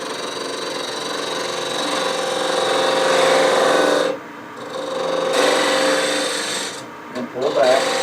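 A 3/8 inch detail gouge cuts cherry burl on a spinning lathe, giving a continuous loud rasping scrape that drops out briefly twice as the tool lifts off the wood.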